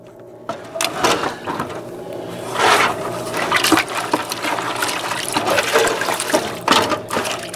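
Gold-bearing material with clay being panned in water, with steady sloshing and swirling that keeps going throughout, splashes rising and falling in irregular surges close by.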